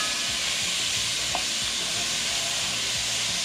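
Vegetables for Cajun Alfredo sautéing in a cast iron pan, a steady loud sizzle and hiss close up, with faint stirring scrapes underneath and no talking.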